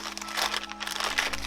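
Small plastic bags from a bag of craft supplies crinkle and rustle in close handling, soft irregular crackles over a low background hum.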